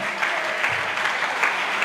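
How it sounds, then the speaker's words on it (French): Audience applause fills a hall at a French quiz-show grand final, a dense, even wash of clapping held loud throughout the brief moment. "Est-ce qu'on peut applaudir très très fort pour nos partenaires?"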